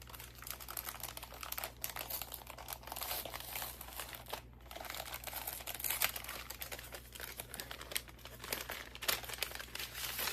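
Plastic bags crinkling and rustling as they are handled while unpacking a yarn subscription box, a steady close crackle running throughout with no talking.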